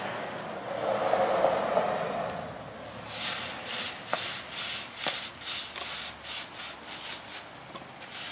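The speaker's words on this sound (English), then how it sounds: "Once you've pulled it smooth with a squeegee, you want to use the brush in one direction." A brush sweeps driveway sealer across pavement, first in a long soft scrub, then in a run of about a dozen short, regular rasping strokes, close and fairly quiet.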